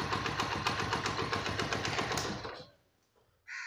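A Honda CD 70 motorcycle engine runs just after starting, a rapid, even single-cylinder putter heard close and loud for over two seconds before cutting out to near silence, then a brief burst returns at the end.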